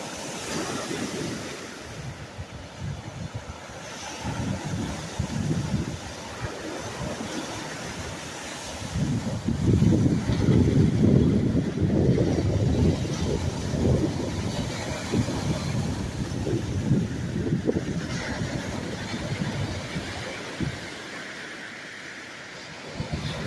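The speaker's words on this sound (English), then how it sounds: "as you can see, there are big waves and not much rock." Big waves crash and surge on the Lake Superior shore at Whitefish Point, a loud rolling surf that swells and recedes, with wind buffeting the microphone throughout.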